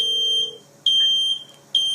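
A home smoke alarm relayed through a phone fire-alert app sounds in sharp, piercing electronic beeps, three pulses in a steady repeating pattern, loud and clear with no voices.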